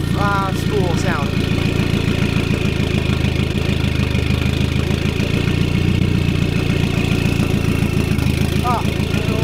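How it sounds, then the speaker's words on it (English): A car engine idles with a loud, steady rumble, broken by a couple of brief chirping turbo flutters near the start and end. "Turbo flutter though, or spool sound."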